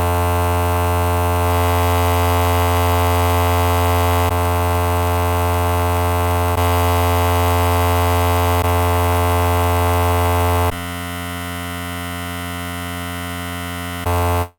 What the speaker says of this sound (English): Just think of them as different flavors of distortion.